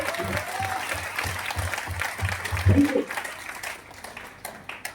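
Seminar audience in Faridabad breaking into applause, a dense wash of many hands clapping at moderate distance, with voices talking over and around it before it tapers off.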